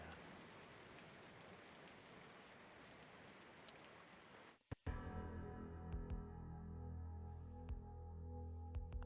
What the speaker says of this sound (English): Outside the window, the rain continues to gently fall.